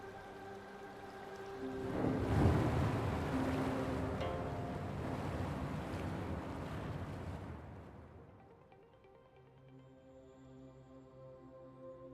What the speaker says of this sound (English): The water level just dropped again.